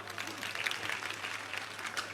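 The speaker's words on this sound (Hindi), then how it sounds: "ताली बजाओ।" Audience applause at a Bageshwar Dham religious discourse, a steady dense patter of clapping lasting about two seconds at moderate level with no talk over it.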